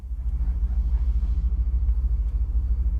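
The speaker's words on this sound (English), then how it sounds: "You can tell it's a depot because it sounds like this." A train depot in the Tube Sim railway video game gives off a steady, low ambient rumble like idling trains and machinery. It stays continuous throughout, with no talking.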